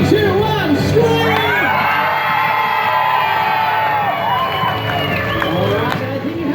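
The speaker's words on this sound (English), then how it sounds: "I need you to stand up, wave your arms, throw your kids, do whatever it takes. Ready? 3, 2, 1, scream!" Large crowd of spectators screaming, whooping and cheering at a jet ski stunt show at Sea World on the Gold Coast, Australia, a loud, sustained roar of many voices with children's shrieks throughout.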